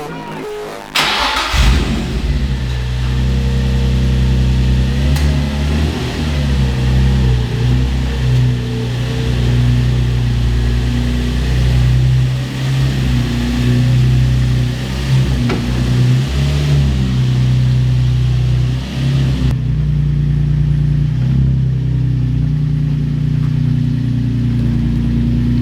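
A Nissan 350Z engine cranks and catches, then settles into a loud, rough idle with deep steady rumble and a few rising blips of revving, staying close and constant throughout.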